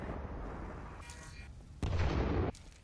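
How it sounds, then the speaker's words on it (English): Booming blasts from grenades in the shooter Titanfall 2, with a couple of broad, rumbling bursts over steady low game noise, the loudest one near and heavy. "He just kept throwing grenades up there."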